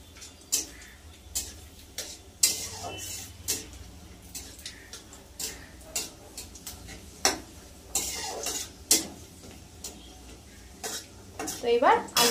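Whole garam masala, cardamom and cinnamon fry in oil with a faint sizzle. A spoon stirs and scrapes against the pan in sharp, irregular clinks and knocks, close by.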